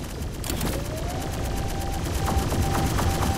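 Big gun firing in the Akimbot video game, a rapid, continuous burst of loud mechanical shots over a dense roar, with a rising whine threading through the barrage.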